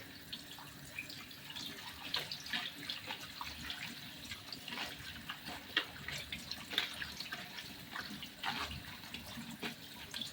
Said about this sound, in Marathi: मस्त आता मी याला धुवून घेते चांगलं पाण्यात.